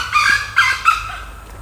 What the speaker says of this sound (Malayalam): അതൊരു പൂവൻകോഴിയാ